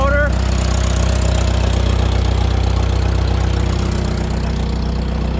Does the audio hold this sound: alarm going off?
no